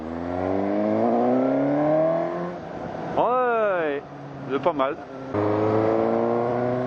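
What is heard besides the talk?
motorcycle engine accelerating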